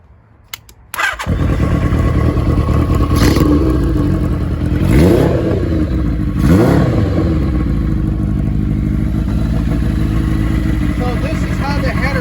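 A 1982 Kawasaki KZ550 LTD motorcycle engine cranks and catches about a second in, then runs loud and steady close by, with several throttle blips swelling over a rough idle.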